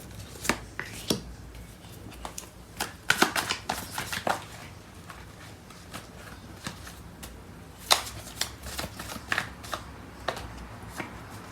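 Tarot cards are shuffled by hand in quick, crisp riffles and taps that come in irregular clusters throughout, close and fairly quiet.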